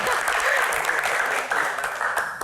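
A brief burst of audience applause at a live question-and-answer session, many hands clapping together in a steady, close crackle for a couple of seconds.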